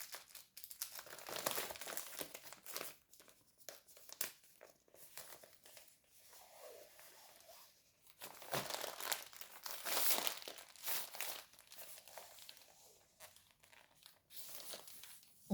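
Cross-stitch fabric canvas is handled and folded close by, giving bursts of crisp crinkling and rustling with short quiet gaps in between.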